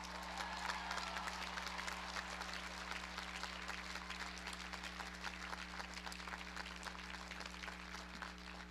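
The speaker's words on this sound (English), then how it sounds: "thank all the parents, grandparents, siblings, spouses, partners, and friends here today with a great Penn round of applause" Steady, dense applause from a large commencement audience honoring families and friends, heard from a distance over a low constant hum.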